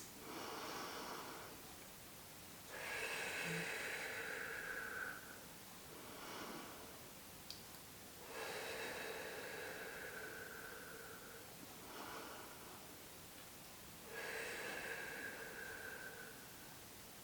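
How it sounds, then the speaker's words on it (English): Deep breaths are taken slowly during an energy exercise. Three long, airy inhales alternate with softer exhales in a steady rhythm. The breathing is close and quiet, with no talk. "then we take 3 deep breaths"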